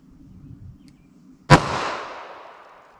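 A single sharp gunshot from a .32 H&R Magnum snub-nose revolver fired at close range outdoors, a loud crack with a long fading ring after a brief quiet lead-in.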